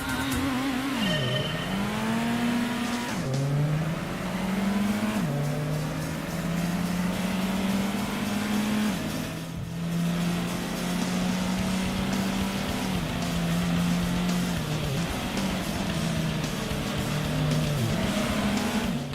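Race cars in Gran Turismo on the PS1 drone through the whole stretch, their engines rising and falling with each gear change and corner. The sound is loud and steady, with a brief tire squeal and no talking.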